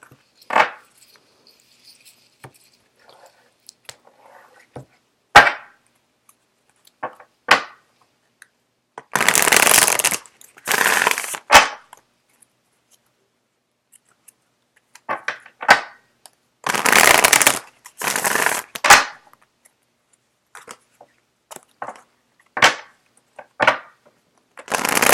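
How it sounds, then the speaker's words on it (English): Tarot cards shuffled by hand in repeated bursts of dense riffling, crisp and close, separated by short pauses and scattered single card snaps and taps. "Just give me a second while I get the cards shuffled out."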